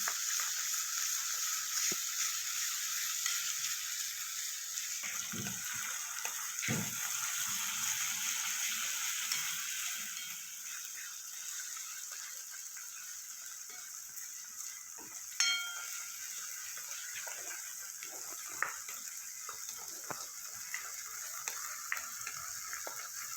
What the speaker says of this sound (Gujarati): પેસ્ટ નાખ્યા પછી આપણે જે વેજીટેબલ ચોપ કર્યું હતું એમાંથી 1/3 કપ જેટલું નાખી અને એને સાતળી લઈશું